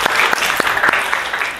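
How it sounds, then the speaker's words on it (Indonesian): A school class claps together in a short burst of applause, loud and close, with a few sharper individual claps standing out from the crowd. "Tepuk tangan bagus."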